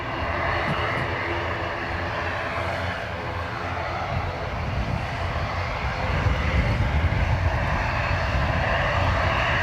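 ATR turboprop airliner at Dublin Airport on a wet, gusty day, its engines droning loud and steady near the runway, the tone swelling slightly in the last few seconds.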